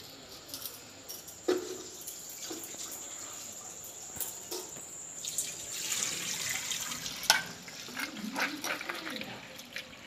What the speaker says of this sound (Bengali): আর একটু ধুয়ে নি।